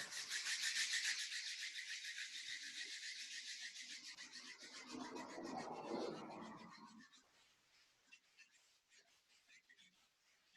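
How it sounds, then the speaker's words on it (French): Palms rubbed briskly together during a home yoga session, a close dry rasping friction that swells for several seconds, then fades into a quiet room. "prends le temps, frotte les mains."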